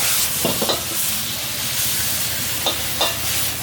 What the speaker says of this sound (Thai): ผัดยอดมะพร้าวอ่อนหอมๆใส่ใบกะเพรา